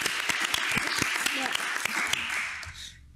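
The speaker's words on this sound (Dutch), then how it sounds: "Kunnen we daarover even een applaus voor geven?" Audience applause after a request to clap during a Dutch cultural-sector event, a steady patter of hands lasting about three seconds and fading out at the end, with talk murmuring underneath.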